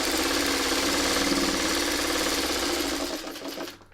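A sewing machine runs a steady, fast, close stitching buzz while stay stitching around a quilt block. It slows and trails off near the end, and no one speaks.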